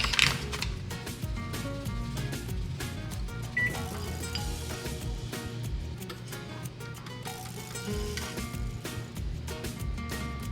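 TVP cooks in a pan with mild taco seasoning, a steady close sizzle and crackle with occasional light clinks and scrapes of stirring throughout.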